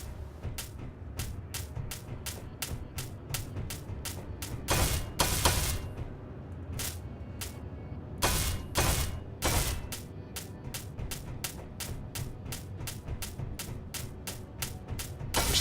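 An elite welder tool in Space Engineers, a space building game, gives a steady run of sharp mechanical clicks and taps in a regular rhythm, broken by a few louder, longer hissing bursts, with no voices.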